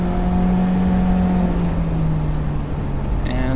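A 2023 Honda CR-V with a CVT accelerates at full throttle up an on-ramp onto the highway, its engine drone holding a steady pitch under loud road and wind noise inside the cabin.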